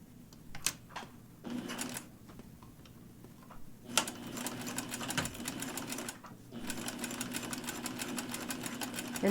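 A sewing machine stitches along the edge of a skirt waistband, running in several bursts of rapid mechanical clatter separated by short pauses, close and steady with no talking.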